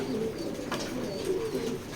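Cooing of a racing pigeon, a blue pied cock wearing a leg ring, in a pigeon loft: a soft, continuous low murmur with faint higher chirps from other birds, steady and fairly close.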